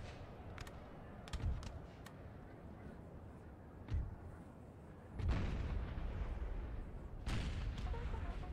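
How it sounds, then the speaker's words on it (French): Napoleonic-era artillery pieces in Napoleon Total War fire a few scattered booms, some distant and some closer, over a low battlefield rumble. "vous avez pris le contrôle de vos pièces d'artillerie. Vous allez pouvoir tirer"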